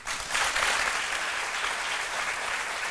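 An audience in a midday television studio applauds, a dense, even wash of clapping held at a steady level from start to finish with no voices on top.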